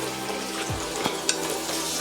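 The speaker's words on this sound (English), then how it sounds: "Now we're gonna add our butter" Butter hitting a hot pan with garlic and crushed peppers for smothered chicken gravy, a steady close sizzle with a brief clink and scrape of stirring midway, no one speaking.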